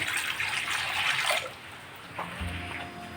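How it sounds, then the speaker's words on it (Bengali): Water pours steadily into a wok on a gas stove for cooking spine gourd, a close, rushing splash for over a second before it stops and leaves a quieter hiss with a low thump. "গ্যাসে কড়াই বসিয়ে দিয়েছি দিয়ে দিচ্ছি বেশ খানিকটা জল"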